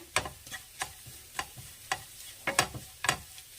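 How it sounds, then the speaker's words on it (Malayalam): Banana stem thoran mixed with grated coconut roasts in a pan, heard as faint sizzling under a series of sharp spatula scrapes and taps at an uneven rhythm, close by and with no talk. "ഇത് നന്നായിട്ടൊന്ന് വറുത്തെടുക്കട്ടെ"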